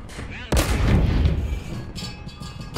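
A low-tier tank cannon fires in the video game War Thunder: a single sharp, loud blast at half a second, followed by a booming rumble that slowly fades, with engine drone and faint clatter afterward and no speech.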